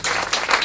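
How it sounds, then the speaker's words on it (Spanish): Audience applause at the swearing-in of a new board of directors, greeting the incoming vice president: a brief, steady burst of hand clapping from a seated crowd, moderately loud with no talk over it. "Un aplauso para ella."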